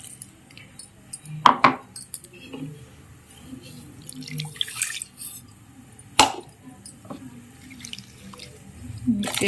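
Water from rinsing a grinder jar is poured into a pot of rasam, heard as splashing bursts and drips mixed with clinks of metal utensils at close range, separated by short quiet gaps.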